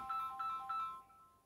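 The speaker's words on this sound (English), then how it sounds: "Ignore the phone ringing." A phone rings indoors, a short electronic tonal ringtone repeating in quick bursts, fairly soft and heard alone before cutting off.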